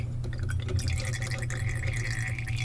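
Absinthe is poured over sugar and drips steadily into a glass below, a close, continuous trickle heard alone for a couple of seconds.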